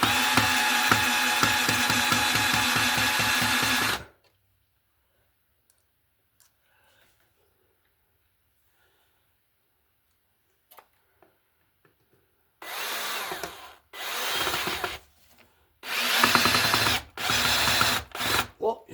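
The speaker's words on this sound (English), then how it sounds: "I'm going to use my screw gun to put my screws into the holes there" Cordless screw gun driving screws into holes while wiring an outlet, heard as a ratcheting, clicking whir for several seconds, then a long silence, then a series of short, close bursts of the driver spinning and stalling.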